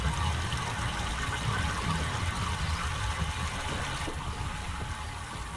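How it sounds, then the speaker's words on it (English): Water flowing through a pipe in the video game Myst (2021 remaster), a steady broadband rushing and trickling wash with a low rumble, continuous and moderately loud, with no talk over it. "The water is now going through this pipe."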